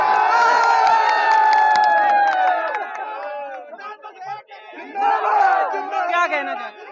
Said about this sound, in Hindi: ये यहाँ पे जो भीड़ उमड़ी है वो हमारे माननीय अखिलेश यादव जी